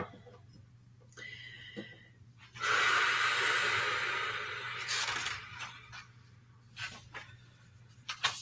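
Deep breathing during a meditation, with a few soft sniffs and short breaths, then one long, loud exhale through the mouth, followed by quieter breaths, close to the microphone.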